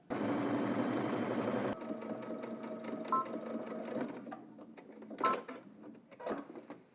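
A sewing machine stitches a jeans seam at a 5/8 inch seam allowance, running in a loud steady burr for nearly two seconds, then slower intermittent stitching with clicks and pauses.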